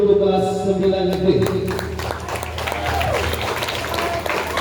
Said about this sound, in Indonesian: Kasih tepuk tangan dulu untuk kelas 9 negeri